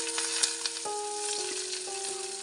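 Ginger, garlic and onion frying in oil with bay leaves and whole garam masala, a soft continuous sizzle with a faint steady tone and occasional light stirring taps, no talk.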